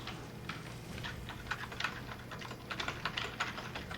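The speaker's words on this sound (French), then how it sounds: "J'ai un clavier mécanique, j'y peux rien." Someone types on a mechanical computer keyboard while playing a game, a steady patter of clicky keystrokes close by and at moderate volume, with no talk.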